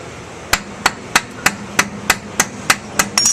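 A lead hammer bangs on an injection mold clamped in place with toe clamps, striking about ten sharp metallic blows at a steady pace, close and loud, the last few coming quicker.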